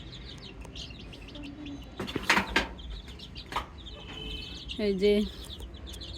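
Young chicks chirp in a poultry shed, a scatter of thin high peeps and a few louder calls over a busy background, with a voice speaking briefly nearby.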